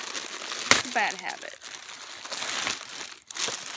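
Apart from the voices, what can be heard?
crinkling packaging being opened with scissors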